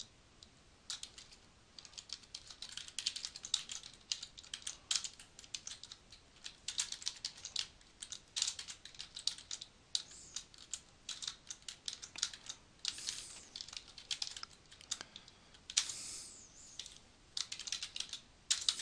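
Quiet, close clicking of fingers typing on a computer keyboard late at night, in irregular bursts of keystrokes with short pauses, no speech.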